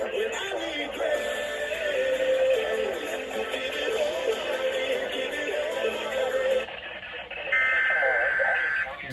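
An Emergency Alert System broadcast sounds as a loud, continuous electronic alert tone over radio-style audio, cutting out briefly near the end before a sharper high tone returns.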